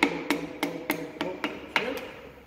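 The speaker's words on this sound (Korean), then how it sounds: "망치 이렇게 톡톡톡" A hammer taps a piston, its rings held compressed, into place in about eight evenly spaced sharp metallic knocks, close and moderately loud, with no talk.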